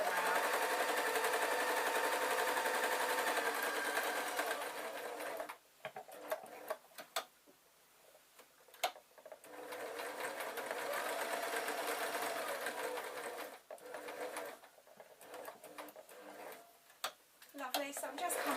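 Sewing machine stitching purple-bobbin thread through fleece for a bunny puppet, bursts of fast ticking needle runs that stop and restart several times, close by, with pauses of handling noise between.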